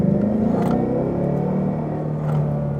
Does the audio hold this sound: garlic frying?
no